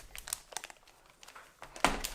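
Crinkling and rustling of cardboard and plastic packaging as a Logitech G213 keyboard is unboxed, a series of close, irregular crackly bursts with a sharper rip near the end.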